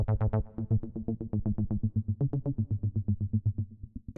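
A punchy synth bass preset from the Fabric Vintage Andromeda plugin, played at high velocity, runs quick, loud, bright staccato notes in a driving rhythm, with nothing else around it.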